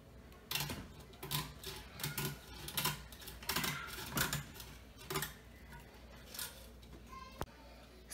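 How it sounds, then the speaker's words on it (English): A box cutter trims excess metal screen from a worm-casting sifter in a series of sharp scraping and clicking strokes, irregularly spaced, with quiet voices in the background. "we ended up using a box cutter with adult supervision instead of scissors"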